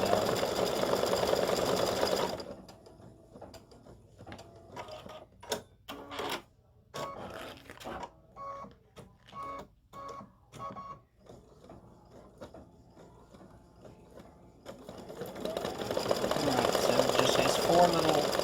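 An embroidery machine stitches a design into card stock, sending out a rapid mechanical whir. Loud humming stretches open and close the passage, and sparse clicks and stops sit between them as the machine jumps between stitches.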